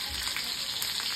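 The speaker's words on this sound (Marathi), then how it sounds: "त्या तेलामध्ये मी लसूण ठेचून घेतली, ती सुद्धा घालून घेते।" Crushed garlic fries in hot oil for a wet shrimp curry, giving a brief, steady, close-up sizzle.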